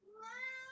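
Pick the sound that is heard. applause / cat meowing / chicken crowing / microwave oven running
cat meowing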